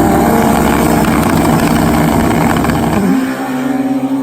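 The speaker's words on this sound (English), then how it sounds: "It is a Suzuki Hayabusa battle." Suzuki Hayabusa motorcycles at a drag race launch together in a loud, dense engine roar that holds steady, then drops to a lower, rougher idle-like drone as they pull away, close and alone.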